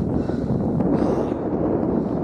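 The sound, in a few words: gusting wind on a hillside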